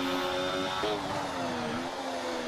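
Loud race car engine heard from the cockpit in a sim racing game, a steady high-pitched whine that drops sharply as it shifts down, then keeps droning and sliding lower, close and alone.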